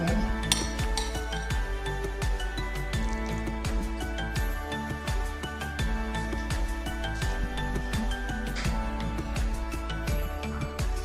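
A metal spoon clinks and taps repeatedly against a dish while scooping filling for spring rolls and samosas, sharp bright knocks in an irregular rhythm, close by, with faint soft squishing between the strikes.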